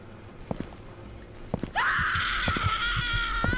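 A loud, drawn-out scream from a video game cuts in partway through and holds steady over a noisy background with a few faint thumps.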